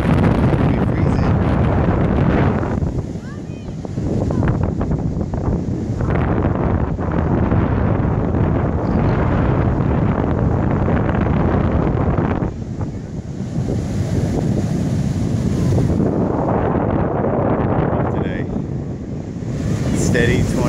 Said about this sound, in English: Steady 20, 25 mile an hour wind.